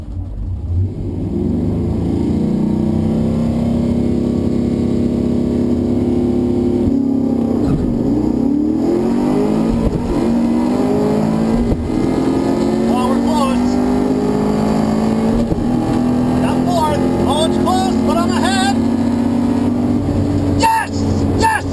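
Cars launch and accelerate hard side by side in a close drag race, engines roaring loud and continuous for about twenty seconds, pitch climbing through several gear changes.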